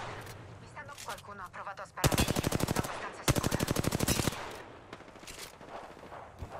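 Two loud bursts of rapid automatic gunfire crackle in Apex Legends, each lasting about a second, with quieter distant shots and a player talking around them.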